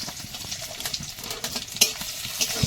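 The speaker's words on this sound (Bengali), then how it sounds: "কড়াইয়ে আবারও তেল দিয়েছি এর মধ্যে একটু রসুন কুচি আর গোটা জিরে দেব" Chopped garlic and whole cumin seeds frying in hot oil in a kadai, heard close as steady crackling sizzle with scraping stirs and occasional sharp pops.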